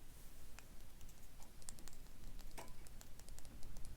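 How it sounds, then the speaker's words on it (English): Scattered taps and patters against a hard surface over a steady low rumble as wind and rain strike an air conditioner, fairly quiet and irregular. "I'm sorry if you can hear the wind and the rain hitting my air conditioner."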